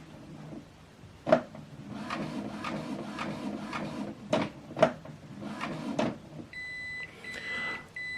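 An Epson WorkForce printer runs its ink check after new cartridges go in, giving a steady mechanical whir with several sharp clicks and clunks, followed by a short electronic tone near the end.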